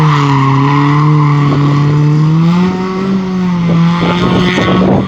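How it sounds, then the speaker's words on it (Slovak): A Toyota Supra engine with a crackling exhaust drones loudly and continuously, its pitch drifting slightly up and down as it holds revs, with sporadic pops and crackles mixed in. No voices are heard. "Csattog! Hallgassátok, megy a Supra!"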